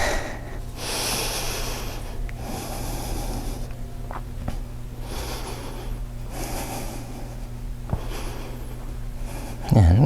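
Steady breaths drawn in and out through the nose while holding a standing yoga pose, long audible inhales and exhales repeating slowly and close up, with no talk.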